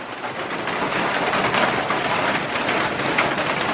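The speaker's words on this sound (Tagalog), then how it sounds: "ang lakas po ng ulan." Heavy rain pours steadily and loudly, a dense, continuous hiss of drops striking surfaces close by, with no pauses and no voices over it.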